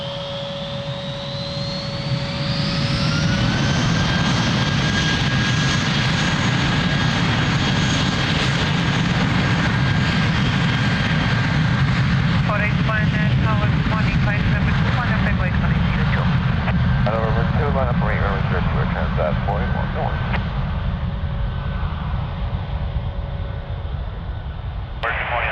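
An airliner takes off from runway 02 at Lisbon Airport, its jet engines roaring loud and sustained as the whine rises in pitch during the roll and climb. Radio voices and chatter are heard over the engine noise.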